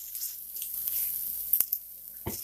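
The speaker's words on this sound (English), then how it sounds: "now add the coconut and roast it for a while" Grated coconut and peanuts roast in a hot pan with a soft, faint sizzle, broken by a few sharp scraping clicks as the mixture is stirred.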